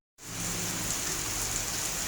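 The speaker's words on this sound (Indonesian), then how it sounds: "Wah, beneran ini hujan turun." Steady rain falls hard and constant after a brief silence, a dense, even hiss of drops on surfaces close by, with nobody speaking.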